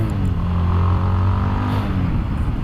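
City road traffic in Angeles City, Pampanga, with cars, motorcycles and jeepneys: a continuous close engine drone and hum from vehicles passing on a busy perimeter road, with no talk.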